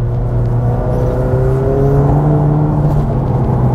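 A McLaren 720S Spider sports car with a 720 hp engine accelerates hard, its loud close engine note rising steadily in pitch as the revs climb, with no voices over it.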